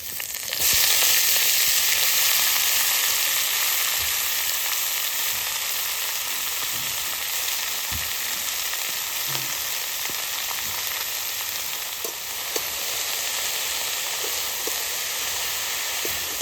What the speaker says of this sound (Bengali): এবার আমি লাল শাক এখানে ভাজবো